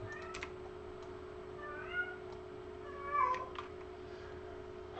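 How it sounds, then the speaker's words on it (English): A cat meows a couple of times, soft and fairly close, with a short pause between calls, over a quiet room with a steady electrical hum. "What's the matter, kitty?"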